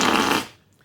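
A mouth blows air fast to imitate a fart, producing one short, loud, raspy burst that cuts off within half a second.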